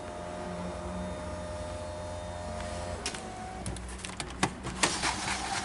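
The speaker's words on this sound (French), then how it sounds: "Le coffre qui est électrique." Electric power tailgate on an Opel Insignia Tourer Cosmo estate opening with a steady motor whir for about three seconds, then a few clicks and latching knocks as it finishes.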